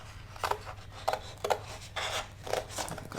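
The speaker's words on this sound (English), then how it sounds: "And I'm just cutting this corner out." Scissors snip through paper while cutting a corner out of a craft project, a series of short, close, crisp cuts with brief pauses between them.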